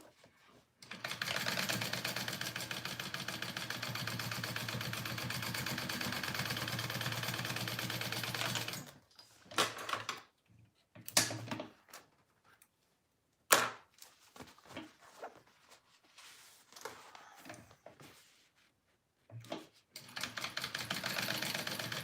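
Sewing machine top stitching a fabric H2O 2GO water bottle sling, running steadily for about eight seconds, then stopping into short bursts and quiet handling noises before starting again near the end.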